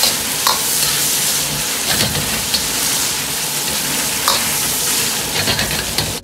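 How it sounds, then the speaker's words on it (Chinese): Duck meat stir-fries with soy sauce in a wok, a loud, close, continuous sizzle and crackle broken by repeated scraping stirs and utensil clicks at irregular intervals. "再喷入适量的生抽酱油，提味提鲜又提色，稍微多炒下，"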